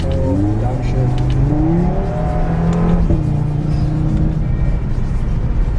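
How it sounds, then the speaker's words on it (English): Inside an Audi RS3 sedan, the engine swells loudly through a downshift from fourth gear with a rising rev blip, constant and dominant from close up, while a person talks over it. "right now we're in 4, downshift"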